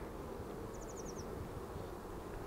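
Honeybees crowd a hive frame in a brood box during the insertion of beeswax foundation, making a steady, dense, low hum that continues without a break, with a brief high chirp from a bird somewhere nearby.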